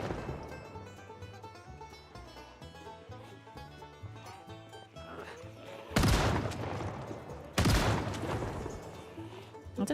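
Shotgun fire in the zombie survival game Project Zomboid: two sharp, loud blasts stand out over a busy bed of game music and ambient sound.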